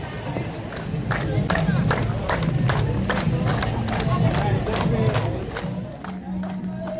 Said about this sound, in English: So I'm just clapping on the sidelines, and before I know it, I'm pulled into the festivities.